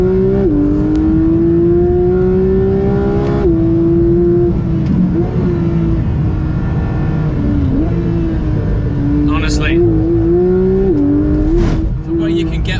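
A Porsche 992 GT3 on track pulls hard under throttle, its engine a loud, steady, close drone whose pitch climbs and dips through the gears, with a voice talking over it.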